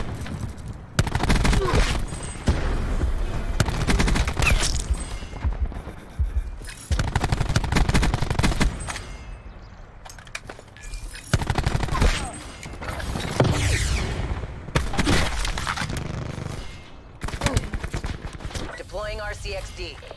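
Nonstop automatic gunfire in Call of Duty Black Ops 4, loud rapid bursts rattling almost without pause, with brief gaps and sharper single shots, mixed with game effects.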